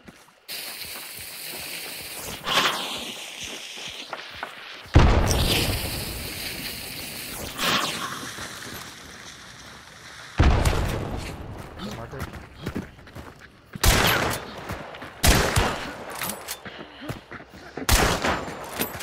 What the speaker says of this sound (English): I'm gonna shoot that guy if you are